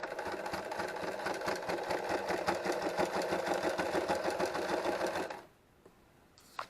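A sewing machine stitches a quilt seam with a rapid, steady mechanical whir for about five seconds, then stops abruptly, leaving near silence broken by one faint click.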